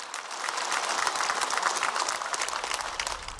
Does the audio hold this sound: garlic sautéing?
no